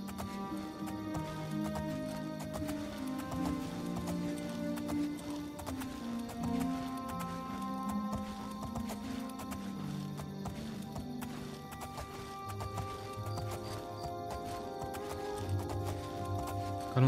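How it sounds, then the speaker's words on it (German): A horse's hooves clip-clop at a steady walking pace in the video game The Elder Scrolls IV: Oblivion, faint and continuous beneath sustained game music. "Kann unser Pferd eigentlich auch schneller werden?"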